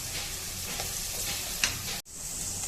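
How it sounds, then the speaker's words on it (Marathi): Garlic and green chillies frying and being stirred in a pan, heard as a continuous close hiss of sizzling oil with one sharp utensil knock and a brief dropout near the end. "हा लसूण टाकून घ्यायचा, तो पण छान परतून घ्यायचा"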